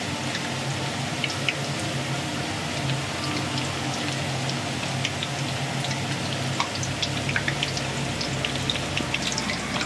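Chicken wings deep-frying in hot oil, a steady dense crackling sizzle with scattered pops, loud and close throughout with no talking.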